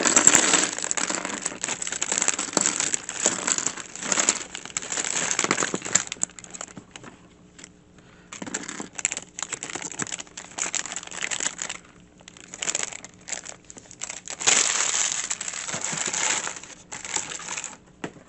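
Small plastic bags of Lego pieces for a 1970 Ferrari 512 M set are torn open and handled up close, giving bursts of crinkling and rustling broken by brief quiet pauses.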